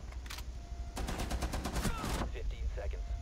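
A rapid burst of automatic gunfire from a Chanka turret firing from a bathroom in Rainbow Six Siege, loud and close for about a second, preceded and followed by a few scattered shots.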